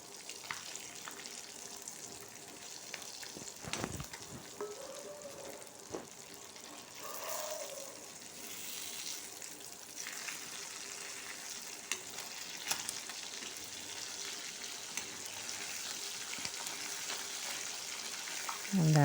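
Fish frying in a pan for a home lunch, a steady quiet sizzle with occasional scraping and stirring clatters, alone and close.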